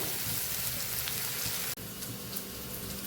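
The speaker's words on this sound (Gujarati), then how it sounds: "આ બાજુ આપણું શાક સતળાય છે" Ridge gourd curry sautéing in oil, a dense, continuous close sizzle like rain, with a brief break partway through before the crackle resumes.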